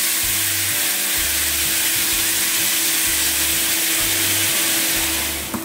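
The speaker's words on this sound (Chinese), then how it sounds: "好，烧热咗啲油之后，我哋炒香啲配料佢，" Chopped fermented black beans, washed and minced, fry with aromatics and red chili in hot oil, a loud continuous sizzle with repeated rhythmic stirring scrapes in the wok, and no talking.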